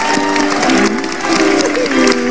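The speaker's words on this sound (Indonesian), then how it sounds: "Beri tepuk tangan dong buat mamanya Melanie." Studio audience applause on an Indonesian TV talk show, a short burst of clapping and crowd noise with musical tones ringing underneath, loud and close throughout.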